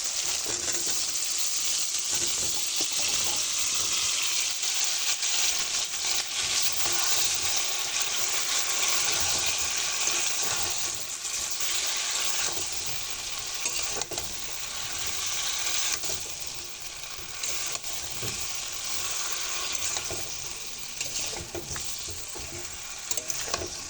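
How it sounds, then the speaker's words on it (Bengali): Cauliflower florets frying in hot spiced oil in a pan, a loud, steady sizzle with stirring scrapes running throughout, close up and without talk. "মশলার থেকে তেলটা কিন্তু খুব ভালো করে ফুটছে এবারে আমি ফুলকপিগুলো দিয়ে দেবো"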